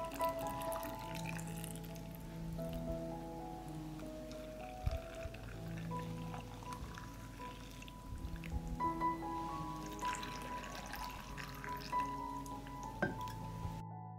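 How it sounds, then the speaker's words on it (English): Water pours into 750 ml glass jars, a faint trickling and splashing stream rising gradually in tone as each jar fills, soft and close with small clinks between pours. "and I will fill them with water"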